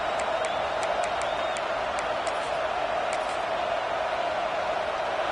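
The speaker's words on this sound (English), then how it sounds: "Here comes the noise from this big crowd in Happy Valley on third down." Home football crowd noise at Happy Valley on third down in a college football game: a steady, loud, dense roar throughout, with faint sharp crowd accents scattered on top.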